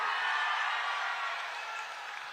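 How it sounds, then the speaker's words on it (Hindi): A large crowd at an Amit Shah political rally in Nanded applauds steadily, a dense wash of clapping that holds throughout and fades slightly toward the end. "आगे आओ प्रताप राव पाटिल जी के लिए जोर से ताली बजाइए सभी लोग"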